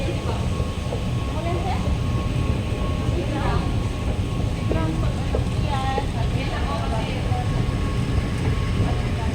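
A train arrives at night with a steady rumbling roll and some squealing tones, heard close and continuous under chatter from people waiting nearby.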